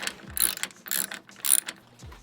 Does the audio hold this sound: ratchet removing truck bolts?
yes